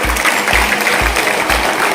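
An audience at a school prize-giving claps steadily and loudly, the dense patter joined by a regular thumping beat about twice a second.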